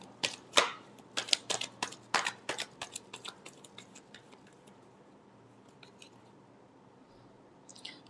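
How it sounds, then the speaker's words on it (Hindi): Tarot cards being shuffled, a rapid burst of crisp papery riffles and snaps close up for the first few seconds, then thinning into scattered soft taps over a quiet room. "Last shuffle."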